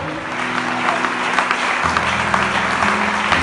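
A church congregation claps together in steady applause, a dense even patter filling the room alone with a low organ or keyboard drone underneath.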